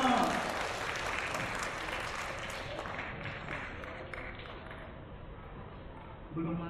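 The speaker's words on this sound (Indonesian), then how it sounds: "tepuk tangan" An audience breaks into applause, loudest at the start and gradually thinning, with voices talking over the clapping throughout.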